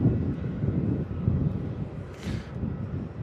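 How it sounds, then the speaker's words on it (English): Singapore Airlines Boeing 777 at Melbourne Airport, a steady low engine roar close by, mixed with wind buffeting on the microphone and a brief hiss partway through. "Nice aircraft, the Singapore Airlines 777"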